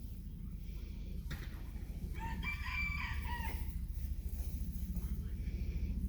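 A rooster on a summer farm crows once in a clear rising and falling call midway through, close by, over a steady low background hum.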